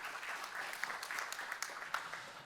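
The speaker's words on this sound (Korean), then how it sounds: "다시 한번 박수 부탁드리겠습니다." Faint, even clapping from an audience at an intellectual property symposium, a soft continuous patter with a few sharper claps standing out and little else heard.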